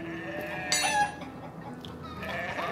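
Sheep bleating in The Vale: Shadow of the Crown video game, a short wavering bleat close by over a busy village soundscape with other farm animals faintly around.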